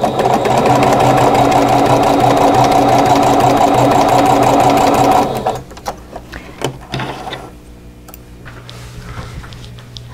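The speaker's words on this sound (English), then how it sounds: "just use my 1/4 inch mark that's on the bed of my machine here and just sew these pieces together" Sewing machine stitching fabric pieces together for crochet hook wraps, a loud, rapid mechanical whir running steadily for about five seconds before stopping, followed by quieter handling clicks and taps.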